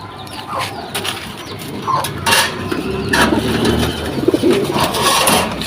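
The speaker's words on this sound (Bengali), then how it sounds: "শাপলা দমের কবুতর।" A shapla-tailed female pigeon coos softly in a loft, with low murmuring calls over a steady background hum and a few faint clinks and rustles.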